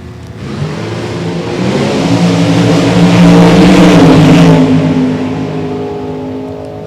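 Engines of a 1999 Pontiac Firebird and a 2012 Ford Mustang roar loudly off the line at a drag race, swelling to a sustained peak over several seconds before fading away.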